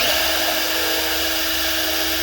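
A power drill bores into poly material, a steady high-pitched whine with a grinding edge, loud and unbroken from start to finish.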